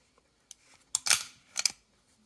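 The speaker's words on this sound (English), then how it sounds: "Got to love this sound. Metal to metal sound." Several sharp metallic clicks and a short metal-on-metal scraping slide as a Browning Hi-Power style pistol slide is worked, close and crisp against quiet surroundings.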